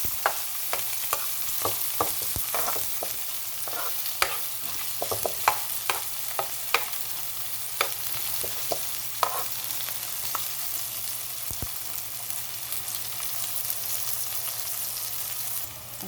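Ginger, garlic, onions and chili frying in a pan, with a continuous sizzle under repeated sharp spatula clacks and scrapes from stirring, close and steady throughout.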